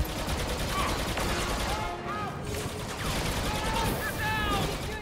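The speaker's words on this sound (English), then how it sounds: "Shooting at me, shooting back." Dense, continuous gunfire in the Star Wars Battlefront 2 campaign, with overlapping blaster and turret-style bursts crackling steadily from start to finish at a loud, close level.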